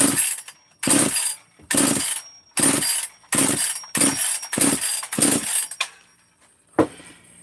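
Stihl-style 262 chainsaw engine fitted with a modified muffler, revved in about eight sharp bursts at high idle with brief gaps between them, loud and close, no voices.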